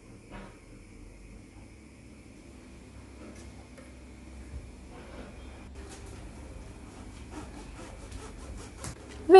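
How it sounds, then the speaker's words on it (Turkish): A knife saws through a soft homemade loaf of bread, a quiet close-up rasping that starts faint and grows steadier over about nine seconds, ending in a louder bump. "Ve ekmeğimi kestim."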